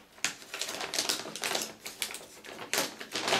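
A bag of dry cat food is torn and pulled open, giving a string of sharp, crinkly plastic crackles in irregular bursts, fairly quiet and close, with no one speaking.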